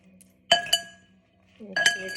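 A utensil clinks against a glass bowl while ingredients seasoned with Himalayan salt are mixed, two sharp clinks followed by a cluster of further clinks, close and fairly loud.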